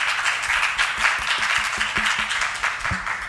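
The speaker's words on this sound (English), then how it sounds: "Let's give them a round of applause." A summit audience applauds a panel, a sustained round of clapping from a crowd of many hands at middling loudness, with no voices over it.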